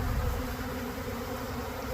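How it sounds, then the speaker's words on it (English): Many honeybees buzz around extracted supers, a dense, steady swarm drone filling the air at moderate volume, with no voices. "You get that many bees, and it sounds scary, but it's not."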